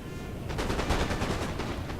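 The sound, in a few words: gunfire from a video game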